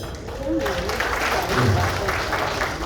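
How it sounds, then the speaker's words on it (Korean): An audience at a breakfast lecture at the Gumi Chamber of Commerce applauds in a steady wash of clapping, with a voice speaking over it. "찬성하시면 박수 한번 보내주세요"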